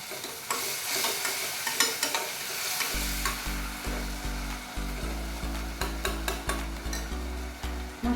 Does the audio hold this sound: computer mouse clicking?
no